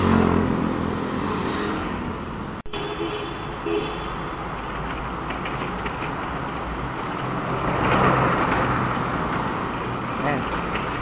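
Motorcycles and road traffic pass near the Skyway in a continuous moderate wash of engine and road noise, swelling toward the end, with a sharp brief knock early on.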